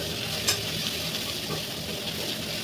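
Onion paste and garlic paste fry in oil with tempered spices for a prawn dish, giving a dense, steady sizzle with a few soft stirring scrapes.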